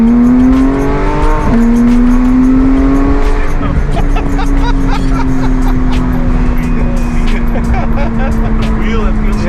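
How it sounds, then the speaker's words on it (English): Porsche 991 GT3 with an aftermarket OEM-style 991.2 steering wheel driving hard as the gearbox downshifts on its own, a loud sustained engine drone whose pitch falls and shifts, heard from inside with steady road roar. "watch the downshifts now, watch. It's gonna downshift itself, see?"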